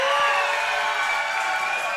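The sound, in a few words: wrestling crowd cheering for RJ Carnage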